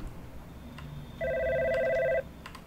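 A telephone rings once in God's Basement, a steady electronic trill lasting about a second, clear and near over a quiet room tone.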